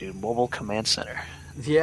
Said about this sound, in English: Can't you hear the crickets in the background?